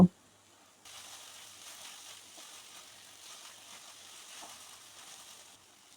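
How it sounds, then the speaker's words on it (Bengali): Kolmi greens with shrimp being fried and stirred: a faint, even sizzle starts after a brief knock and runs steadily, quiet and close. "এবার নাড়াচাড়া করে শাকটা ভেজে নেব"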